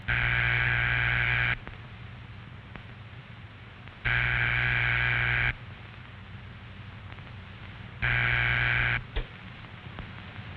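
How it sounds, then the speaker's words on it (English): A telephone ringback tone sounds in three evenly spaced long pulses, separated by quiet gaps with faint background hiss. "That's the ringing signal."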